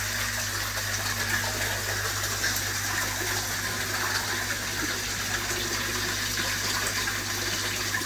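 A garden tap runs steadily, a continuous rushing, trickling flow of water that stays constant throughout with no voices.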